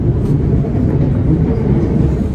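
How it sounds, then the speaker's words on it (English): Steady rumble of a train ride on the Laverton line heading toward Laverton Station, a continuous loud low-pitched roar of wheels and carriage noise with no breaks and no voices. "a train going to who knows where"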